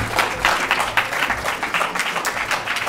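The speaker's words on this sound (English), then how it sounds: "can we give Xavier a huge, huge round of applause for that brilliant presentation?" An audience applauding after a lecture presentation, dense steady clapping from a crowd of many hands, fairly loud and continuous for the whole few seconds.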